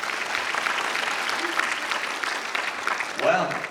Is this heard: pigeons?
no